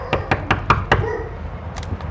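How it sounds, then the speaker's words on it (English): Five sharp knocks on a door in a quick, even rhythm, close and loud, followed by a brief faint rustle. "Knock on the door"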